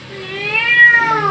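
A cat meows in one long, drawn-out wail while being bathed, loud and close, with no talking over it.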